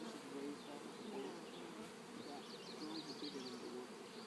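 Honey bees in an open beehive being inspected frame by frame hum with a faint, steady, low buzz that continues evenly throughout.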